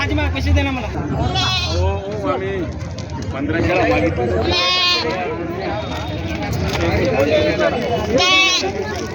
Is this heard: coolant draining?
no